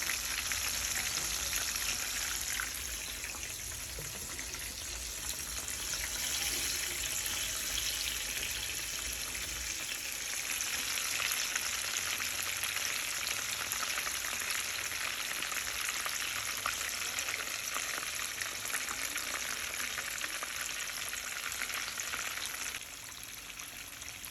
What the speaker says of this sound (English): So let's get into it and fry our fish.